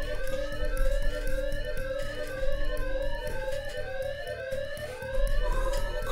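Wailing alarm siren in the Thief Simulator game sounds loud and steady, its rising and falling tones sweeping over a constant pulsing electronic drone. The siren runs throughout with no talking.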